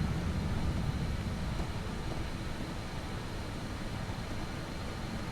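A plane's engines roar in a flight simulator takeoff, a steady broadband rumble that stays loud and even throughout, with no voices.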